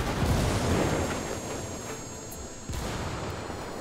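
Frag grenade blast in Ghost Recon Wildlands, a loud low boom at the start that rumbles and decays over a few seconds, with a second thump partway through and a faint high whine underneath.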